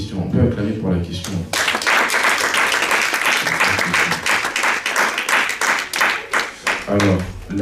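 Audience applause swells up loud and steady after someone speaking French, a dense wash of clapping that rises and fades with pulsing waves across the hall.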